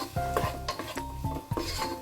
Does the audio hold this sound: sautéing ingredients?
yes